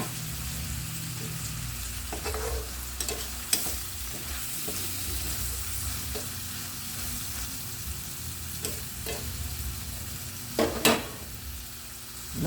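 Chili garlic shrimp with spring onion fries and sizzles steadily in a pan, with occasional stirring scrapes and clinks over the continuous close crackle.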